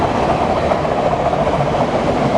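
A BNSF ES44AC diesel locomotive hauling a freight train in Spokane Valley, Washington, gives a loud, steady rumble and rush of rolling cars close by, continuous throughout, with no talk.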